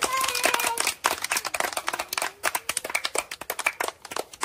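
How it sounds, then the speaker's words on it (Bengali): Children clap their hands during a village straw-and-cup moving game, a rapid, uneven patter of many claps with chatter and shouting mixed in. "সবাই হাততালি দে, হাততালি দে"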